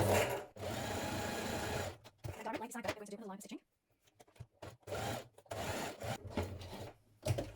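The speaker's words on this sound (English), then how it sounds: "You're going to do 2 lines of gathering stitches between these notches, so make sure you have a long straight stitch on your machine" A sewing machine runs a long straight gathering stitch on dress fabric, with two sustained bursts of stitching separated by pauses and a short run near the end, heard close, while someone speaks between them.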